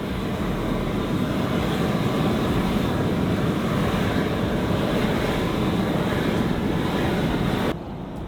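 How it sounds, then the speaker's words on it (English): Geothermal fumaroles at Craters of the Moon near Taupo give off a loud, constant broadband hiss that runs unbroken and close, dropping sharply just before the end. "The fumaroles emit a constant eerie hiss"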